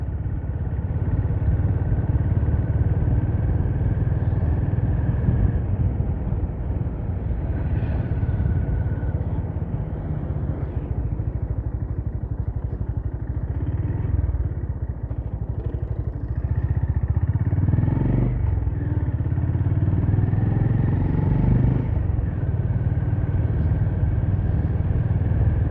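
A Honda motorcycle cruising along a road, its engine droning steadily and loudly throughout, with wind rush and occasional clatter, no one speaking.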